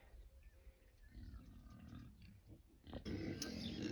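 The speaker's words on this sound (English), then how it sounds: "the pigs are starting to, they've heard my voice, so they're going to start making their way up for eating" Pigs grunting and squealing as they come up for morning feeding on an off-grid smallholding, a steady mixed chorus of animal calls that swells louder and closer near the end.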